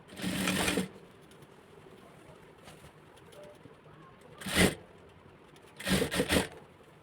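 A sewing machine stitches silk fabric for a small child's skirt in three short runs, the first about a second long, then two brief bursts, separated by quieter handling sounds.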